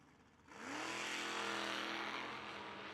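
Drag racing cars launching together, a Dodge Dart and a wheelstanding Mustang, engines surging from quiet into a loud sustained roar with rising pitch, heard from a distance at the track.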